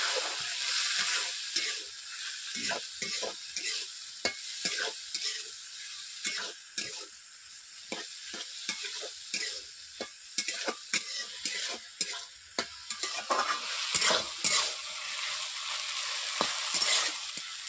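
Potatoes, long beans and soya chunks are stirred in a pan with a little water, a steady soft sizzle broken by frequent scraping clicks of the spoon against the pan, close and continuous with no talking.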